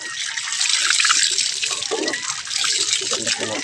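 Water gushes steadily from a manual jetmatic hand pump outdoors in Kalintaan City, a continuous bright splashing flow with faint speech mixed in.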